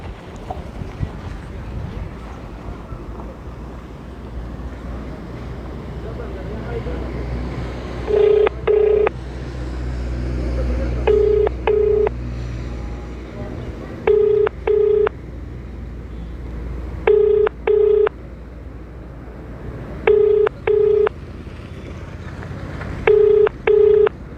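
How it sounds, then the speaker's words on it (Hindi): A phone dials an official, with pairs of short beeping tones repeating at regular intervals over steady wind and background rumble. "डीसी मैम जो है सुषमा चौहान जी, उनसे बात करने का प्रयास करते हैं।"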